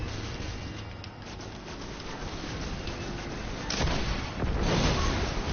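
Rocket launcher fire in Destiny 2, heavy booming blasts over a dense, continuous roar of combat noise, loud and sustained with a sharper impact partway through.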